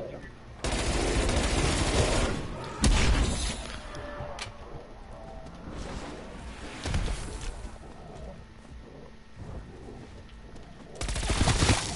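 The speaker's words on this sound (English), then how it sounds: "Bro, I have an excuse to use my ray gun" Ray gun firing in the Cold War Zombies video game, loud rapid bursts of energy-weapon shots in several volleys with game ambience between them, while someone talks over it.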